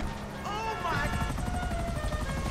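A helicopter in GTA 5 Online hums steadily at moderate level beneath excited French chatter from players.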